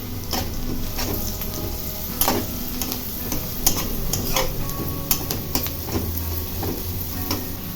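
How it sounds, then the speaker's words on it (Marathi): Chopped onion frying with turmeric in a pan while a monsoon wild-leaf vegetable dish is prepared, a steady close sizzle with occasional spoon stirs and light clinks against the pan, no talking. "कांदा भाजत आलेला आहे"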